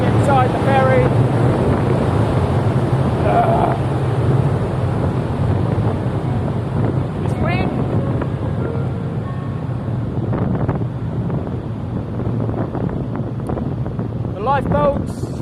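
Strong wind buffets the open deck of a Japanese overnight ferry, a loud continuous roar and rumble of gusts against the microphone, with brief voices and faint background sounds mixed in.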